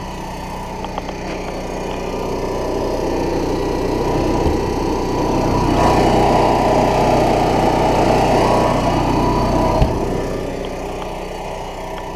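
An Onan 4K Micro Quiet generator on a 2006 Eclipse Attitude toy hauler travel trailer starts up and settles into a loud, steady engine drone that continues throughout.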